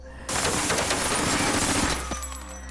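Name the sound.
Uzi gunfire riddling a Cadillac car in a film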